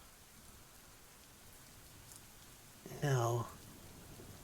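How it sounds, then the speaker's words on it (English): Soft, steady rain patters down throughout a video game scene, a faint, even hiss of falling drops, while a voice briefly speaks one short word over it. "the rain continues to bear down on us"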